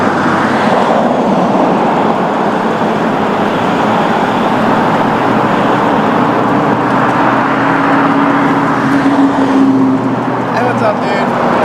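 Busy road traffic roars steadily close by, cars passing in a constant loud wash with a faint tonal whine midway, while someone talks over it.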